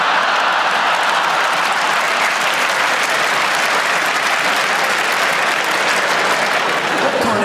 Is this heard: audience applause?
yes